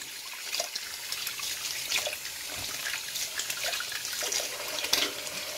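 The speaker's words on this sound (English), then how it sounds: "I'm having a hard time right now rinsing my hands." Water streams from a running sink tap while soapy, sudsy hands are rinsed beneath it, a steady close hiss with small splashes and drips shifting as the hands move.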